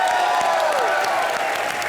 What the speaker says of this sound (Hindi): महाराज अशोका के लिए जोरदार तालियां हो जाएं।